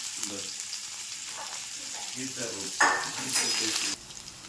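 Onion frying in oil with cumin, mustard seeds and curry leaves for an okra dish, a close sizzle with spatula stirs and a sudden louder burst of crackling near the end, with someone talking over it.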